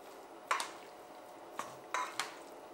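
Meat mixture with garlic being stirred for aspic (kholodets) in a bowl, heard as a few sparse, close clinks and scrapes of a utensil against the dish, spaced irregularly over a quiet background.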